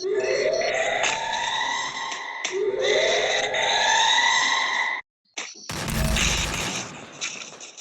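Free Fire gameplay carries repeated rising, siren-like electronic sweeps, then a brief silence followed by a sharp, loud gunfire burst with a booming low end.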